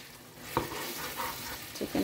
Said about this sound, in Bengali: আরও ৫-৬ মিনিট আমি কষাবো ভালো করে, কষাতে কষাতে অর্ধেক সিদ্ধ হয়ে যাবে।